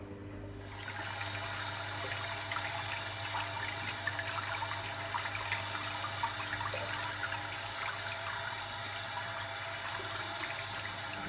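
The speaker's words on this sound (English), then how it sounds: "I'm going to clean it in running cold water" A tap turns on and cold water runs steadily and forcefully over beef bones being rinsed, splashing continuously for the whole stretch with no talking.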